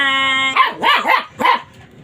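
A dog barks four times in quick succession, close and loud, each bark sharp with a yelping edge, following a steady tonal hum at the start.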